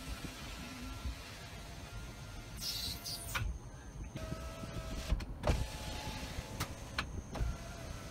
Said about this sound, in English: The motor even sounds different on it because it's got less stress on it.